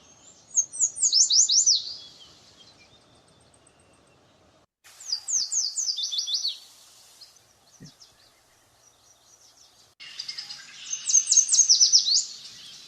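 Yellow warbler song from a wetland shrub setting: three separate bright, rapid bursts of sweet whistled notes, each about two seconds long, ending in a quick flourish, clear and fairly close with quiet pauses between.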